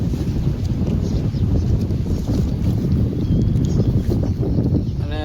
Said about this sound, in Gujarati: અને આજ તો પવન એટલો ચડી ગયો હે, મારો હરખો કદાચ અવાજ તમને નહીં આવતો હોય.